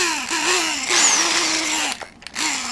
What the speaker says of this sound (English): Alright, this is pretty noisy, but we're going to countersink this eyeball just like this.